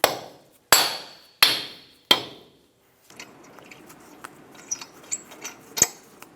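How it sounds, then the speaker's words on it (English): Four sharp soft-face hammer taps on a metal hub cap at an even pace, each ringing briefly, followed by quieter clinks and handling noises, during a 2000-2006 Toyota Tundra front CV axle replacement. "Tap it with a soft face hammer"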